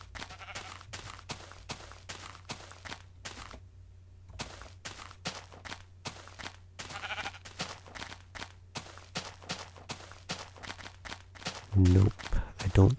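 Sheep bleating in a Minecraft-style block-building game, a few faint short bleats among a quick run of rhythmic footsteps and block sounds, with low hum underneath and a louder burst near the end.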